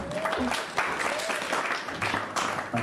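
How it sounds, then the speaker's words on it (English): Audience applause cast as a vote during a live-streamed Flat Earth discussion, short scattered bursts of clapping mixed with voices, coming in uneven waves over under three seconds. "So by applause, how many people think this is a painting?"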